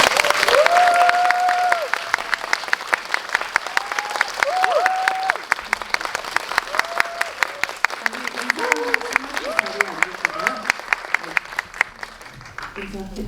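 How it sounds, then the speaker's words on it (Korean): Audience applause fills a cinema hall at a film Q&A (GV) screening of Wonderland at CGV Yongsan I'Park Mall, a dense steady patter of clapping throughout while voices speak over it. "큰 박수 부탁드립니다"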